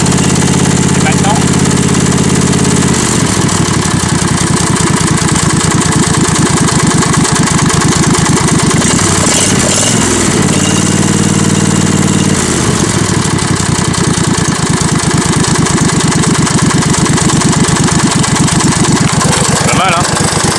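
A small petrol engine idles after an idle adjustment, running as a steady, loud, close mechanical rumble through most of the stretch, with its note shifting a couple of times.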